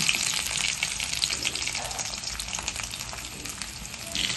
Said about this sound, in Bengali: এবার আমি কড়াইয়ে তেল দিয়ে এটা ভেজে নেব।